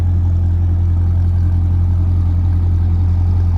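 A Holden VY SS Commodore sedan with a tow pack idles steadily, its V8 giving a deep, even rumble close by, loud and unbroken throughout with no talking.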